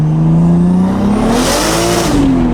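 A 600 whp car in second gear spins its tires, with a loud, close engine pull rising in pitch alongside a hissing tire-spin roar.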